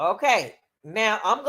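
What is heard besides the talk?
No distinct noise like a dog, phone or traffic.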